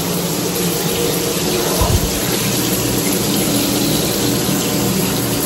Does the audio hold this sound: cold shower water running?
yes